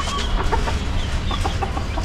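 Chickens on a small rooftop farm cluck in short, repeated bursts at close range over a constant, noisy background hum.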